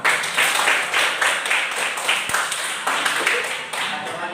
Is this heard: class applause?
yes